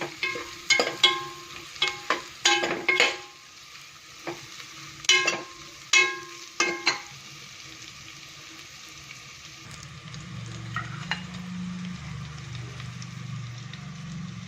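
Onions fry in ghee while a spoon stirs them, sharp scraping clicks repeating against the pan over a steady soft sizzle, close up with no talk, then a low hum rises near the end.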